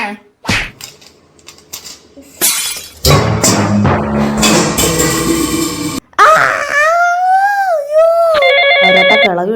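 After a burst of loud crashing and clattering, a phone rings in a home with a bright electronic ringtone melody of wavering tones that plays for several seconds.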